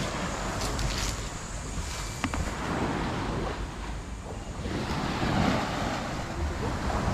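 Strong sea waves roll against the shore in a steady, loud roar with wind buffeting the microphone and occasional sharper splashes.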